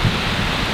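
Heavy rain pours through the Amazon jungle canopy, a steady, dense hiss of drops with a low rumble underneath, close and enveloping throughout.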